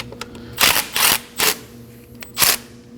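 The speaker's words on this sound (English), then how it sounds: "we're gonna remove this nut using the same tool" Ratchet wrench backing off a starter nut on a 2011-2016 Kia Optima: four short, sharp bursts of rapid metallic clicking, close and fairly loud, separated by brief quiet gaps.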